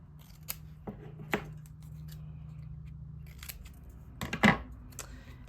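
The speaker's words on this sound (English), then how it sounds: "this is where I finally get my scissors" Scissors snip through paper in several separate crisp cuts, close and fairly quiet, with a soft low hum between the snips.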